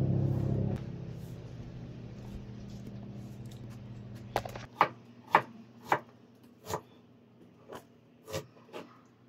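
A knife slices through ingredients on a cutting board, about seven sharp, distinct chops spaced unevenly in the second half, close and clear after a low rumble fades out.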